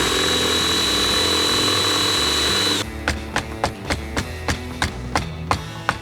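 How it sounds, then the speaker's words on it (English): A power drill bores out old bolts on a boat, first one long steady whine, then a run of about a dozen sharp rhythmic bursts, close and loud with no talk. "So out come the power tools to swiftly implement Plan B, drilling these old bolts out."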